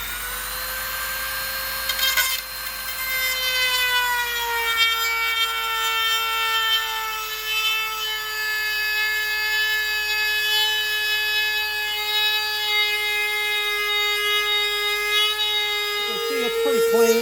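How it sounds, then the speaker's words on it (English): A Dremel rotary tool with a small stone bit grinds metal on a 1971 Monte Carlo SS454, a steady high-pitched whine held close and loud for the whole stretch, dipping as the bit loads at the end. "I got a little stone bit that I'm using for my Dremel, and I'm using that basically just to grind this off here."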